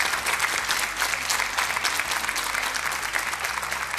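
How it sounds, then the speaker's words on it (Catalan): A television studio audience gives Marc Giró a sustained round of applause, dense and even throughout, with brief murmurs of voices mixed in. "Un aplaudiment per Marc Giró."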